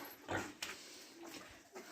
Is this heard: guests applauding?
no